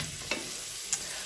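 Smoked brisket with onion and carrot sizzles steadily in a pan, a constant fry hiss with two brief stirring scrapes.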